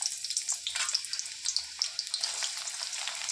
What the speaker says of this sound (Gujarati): તો સૌપ્રથમ પહેલાં આપણે તેમાં ડુંગળી સુધારેલી છે તે ડુંગળી નાખશું